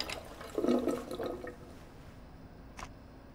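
Water pouring into a bowl in Life is Strange 2, a short, soft splashing trickle near the start that fades away, followed by a faint isolated tap.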